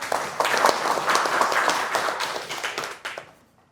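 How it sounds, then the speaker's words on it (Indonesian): A university class gives a short burst of applause for a student group after its presentation. The dense clapping is fairly close, holds for about three seconds, then thins out and fades to silence. "beri tepuk tangan untuk kelompok 2"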